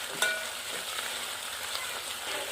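Oil sizzles steadily in a pan on a village kitchen stove, a continuous hiss with a brief sharp crackle near the start, fairly faint with no talking.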